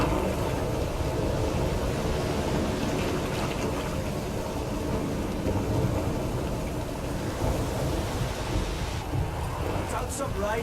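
Steady, dense rain in the video game The Witcher 3 pours with a low rumble of thunder beneath it, continuous and fairly loud throughout.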